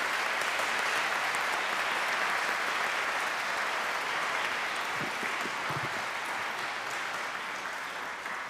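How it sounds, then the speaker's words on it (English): A school assembly crowd claps for a group of students with dense, sustained applause that holds steady for several seconds before easing slightly, heard from within a large room. "Let's give them a round of applause,"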